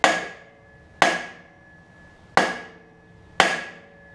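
Four sharp, ringing hammer whacks land about a second apart on a part of a Cub Cadet Z Force zero-turn mower with a Toro deck. Each strike is close and loud, followed by a quick decaying ring.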